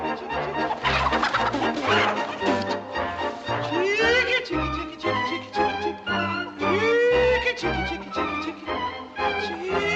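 Several chickens cluck and squawk close by, a busy overlapping chorus of short calls continuing throughout.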